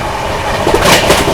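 Maharashtra Sampark Kranti Express runs at speed, a loud continuous rumble of wheels on rails with rhythmic clacks over joints, heard close from on board.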